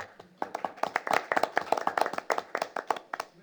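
A small group claps at a Fort Myers Beach town council meeting, sparse, distinct hand claps close by in an uneven rhythm, moderately quiet, building briefly and then tapering off.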